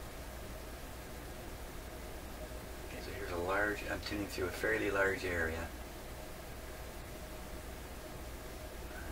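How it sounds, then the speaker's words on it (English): Steady broadband static hiss from a McIntosh MR71 FM receiver tuned between stations fills the clip, with someone speaking briefly over it in the middle. "you'd hear a hiss coming out."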